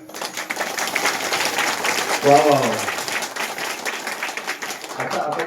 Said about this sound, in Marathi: घाबरू नका, फक्त टाळी वाजवा